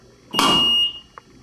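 A single sharp electronic quiz buzzer sounds for about half a second, followed by a faint short blip, in an otherwise quiet room.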